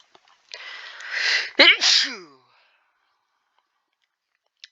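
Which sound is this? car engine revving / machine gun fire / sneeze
sneeze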